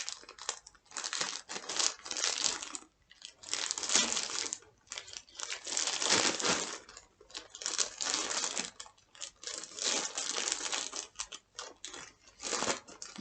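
A mail parcel is opened and cut with scissors: papery packaging crinkles and rustles in repeated close bursts, with brief pauses, over about thirteen seconds.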